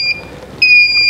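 A solar inverter sounds its low battery alarm as two loud, shrill electronic beeps, close and piercing, separated by a brief gap with no talk.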